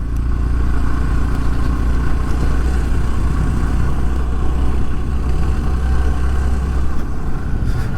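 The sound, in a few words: Honda Trail CT125 motorcycle riding on forest road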